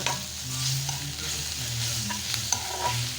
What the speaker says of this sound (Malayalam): എണ്ണ കുറച്ച് ചേർത്താണ് ഞാൻ വഴറ്റുന്നത്